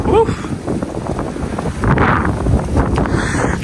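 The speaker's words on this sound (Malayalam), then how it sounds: "നല്ല കാറ്റ് കേട്ടോ, നല്ല കാറ്റ്" Wind roars and buffets the microphone in strong gusts, with a brief voice at the start.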